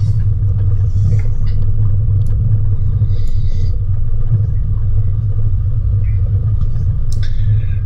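A vehicle rumbles along a rough high country track between Mt Buller and Howitt Hut in Victoria, a steady low engine drone with faint knocks and rattles, no talk.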